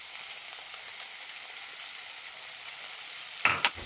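Chicken going into hot masala sizzles in a pan as a quiet, steady frying hiss, ending with a couple of brief clattering knocks.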